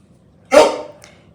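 A single loud, close dog bark from an indoor pet dog eager to be let out, sharp and full-bodied, with a faint trailing echo and quiet room tone around it.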